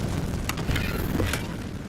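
Casting the Incendio fire spell in Hogwarts Legacy gives a short, rumbling whoosh of flame with a couple of sharp crackling bursts, close and fairly loud.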